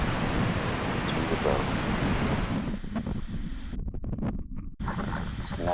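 Rough open ocean water with strong wind buffets the microphone, a loud constant surf and gust roar with choppy dropouts, while a person speaks briefly over it.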